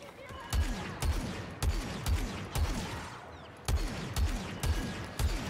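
Blaster fire in Star Wars Battlefront II comes in quick bursts of sharp zapping shots with regular pauses, loud and close, each volley a tight cluster of bright pulses, with a player's voice occasionally heard underneath.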